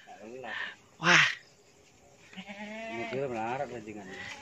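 Goats bleat several times at a sacrificial-goat farm in Pamekasan, Madura, with one sharp, loud cry and some softer calls. Someone speaks Indonesian over part of the sounds.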